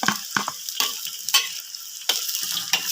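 Chopped onions sizzling in hot oil in a pan for fish curry, a crackling fry broken by sharp stirring scrapes and clicks of the utensil at irregular intervals, close up with no talking.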